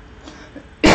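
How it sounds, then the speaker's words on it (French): A single sharp cough bursts out at the very end after near silence. "Le bonbon me fait tousser."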